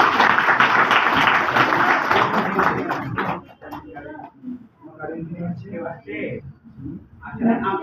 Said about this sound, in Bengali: সবাই তার জন্য করতালি